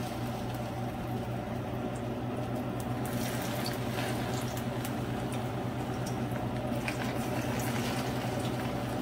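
Plantain slices frying in hot oil, a steady, dense sizzle and bubbling that continues throughout without talking.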